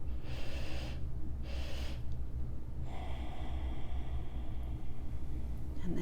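Slow guided breathing-exercise breaths, with two long airy inhales or exhales early on and a longer breath from midway, close to the mic over a steady low rumble of background noise.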